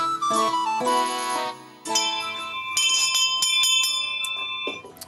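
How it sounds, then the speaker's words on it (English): A school bell rings loud and close in a series of bright, resonant strikes whose overtones ring on and overlap for several seconds, briefly dipping before more strikes follow. "Now, that bell usually means that it's time for everyone to leave"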